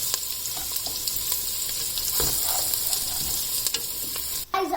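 Dry spices fry in a pot with a steady sizzle under repeated scraping stirs, a close, continuous crackle with soft knocks of the spoon.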